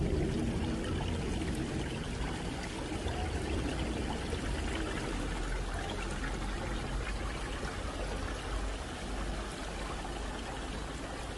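Water flows continuously in a steady, close, broadband rush, with no voices.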